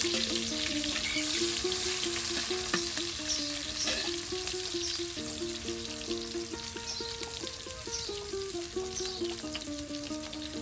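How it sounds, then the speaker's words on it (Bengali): Onions frying in oil in a pan, cooked for a village-style chicken curry in Bangladesh, giving a dense continuous sizzle heard close and alone, with a faint tonal hum running underneath. "এই যে দেখুন পেঁয়াজগুলো এখন তেলের সাথে ভেজে নেওয়া হচ্ছে"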